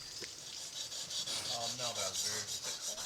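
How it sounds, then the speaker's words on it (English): Steady rasping strokes of guides sharpening machetes on a wet mountain ridgetop campsite, a repeated scraping rhythm at close range with a faint murmur of voices underneath. "The guides sharpened their machetes before we set out"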